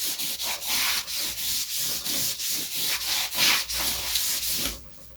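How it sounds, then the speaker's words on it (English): Steady back-and-forth rubbing of a squeegee over a freshly glued joint on the woodwork of a 1963 Biennophone Verbier radio, with about a dozen rhythmic, close, fairly loud scraping strokes that stop abruptly near the end. "so I can just put the two together and rub it over with a little bit of a squeegee thing here"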